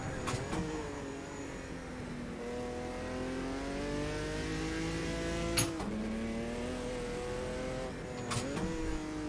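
A Group C race car engine in Automobilista 2 revs high and climbs steadily through the gears, with sharp shift blips and a brief pop, loud and close from the cockpit.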